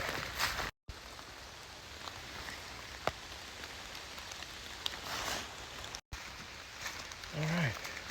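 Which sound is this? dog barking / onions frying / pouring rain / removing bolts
pouring rain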